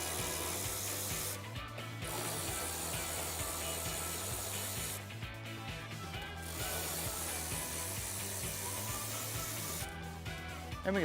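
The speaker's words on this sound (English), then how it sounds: "Now we can go ahead and just pull all these nuts off." Nuts being removed from the fog light bracket of a 2018-2021 Jeep JL or Gladiator: continuous busy mechanical clicking and rattling from a tool, with short breaks in the upper hiss, loud and close throughout.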